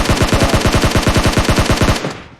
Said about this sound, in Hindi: यहाँ पे ताबड़तोड़ गोलियां पड़